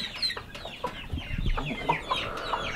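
Faverolles hens cluck up close in a short burst of quick, overlapping squawks and chirps, loud and clear with no talking.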